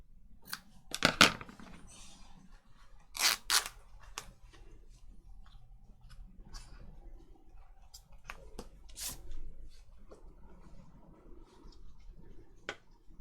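Scissors snip through craft paper from a 12x12 paper pad in a few quiet, sharp bursts, with soft rustling and handling noises between cuts in a calm room.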